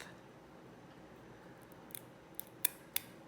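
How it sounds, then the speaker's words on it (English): Small scissors snip thin edges off UV resin faux dichroic glass cabochons, giving four or five sharp, quiet, close clicks in the last second and a half after a hushed pause. "I just take a little pair of scissors and I go along the edge and I cut those little thin pieces right off"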